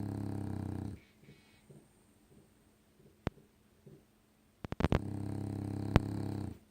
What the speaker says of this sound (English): she's snoring so much.